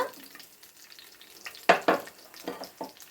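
Chicken frying in a pan, a soft steady sizzle with several sharp louder bursts of spatter or stirring near the middle and end, close and moderately quiet, with no talking.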